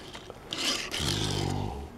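A Hot Wheels '71 El Camino toy pickup skids across a tabletop, a close rasping scrape lasting about a second, then a rough rubbing drag that fades out.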